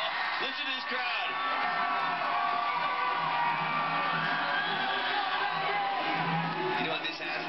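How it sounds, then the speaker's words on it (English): Crowd cheering at the men's ski superpipe final at Winter X Games Aspen, a sustained roar of whoops and yells from a large outdoor audience with an announcer talking over it. "Listen to this crowd."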